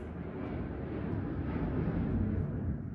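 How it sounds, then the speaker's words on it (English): Fighter jets flying over a military base, a low broad roar that swells gently and stays steady throughout, heard from indoors at moderate distance with no talk over it. "it's the fighter jets going over the base"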